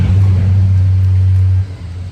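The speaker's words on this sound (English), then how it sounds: "We'll wait for that very loud truck to go by." A very loud truck passes close by, a heavy low engine drone that holds steady, then drops away sharply as it moves off.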